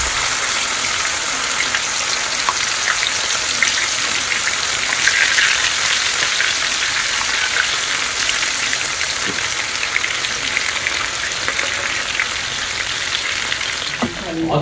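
Prawn pakodi fry in hot oil, making a loud, continuous, crackling sizzle that holds steady throughout, close up, with a faint clatter near the end.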